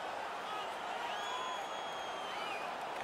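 Arena crowd in NHL 18 at an Ottawa Senators home game, a steady roar of cheering and whoops after the home team wins a fight, sustained and moderately loud throughout with a faint whistle-like tone above.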